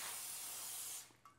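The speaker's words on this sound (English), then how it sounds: "First, spray a little spray" Non-stick cooking spray hisses in one steady burst for about a second, close and fairly loud, then cuts off into a quiet room with a small knock after, as a breakfast bagel sandwich is prepared.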